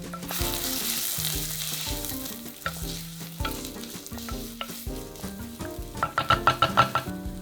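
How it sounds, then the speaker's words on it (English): Onion hits hot oil in a pan for Vietnamese pho broth and sizzles continuously under background music, with sharper crackling bursts near the end and no one talking. "So you wanna start off with a little bit of oil. Add in some onion."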